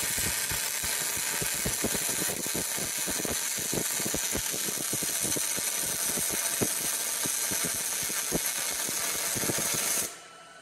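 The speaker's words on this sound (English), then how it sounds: "Once your fit-up's complete, you're gonna tack weld everything in place." Steady, loud buzzing hum of welding on a vehicle's rear frame during a frame-raising job, with dense crackling pops running continuously for about ten seconds before cutting off abruptly near the end.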